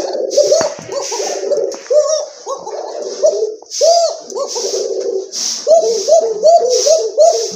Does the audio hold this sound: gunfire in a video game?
no